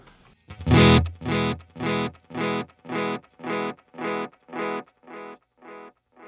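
A Boss Space Echo RE-202 tape echo in three-head mode: a heavily distorted sound rings out and then repeats as a train of evenly spaced echoes, about eleven of them, fading slowly with no voices.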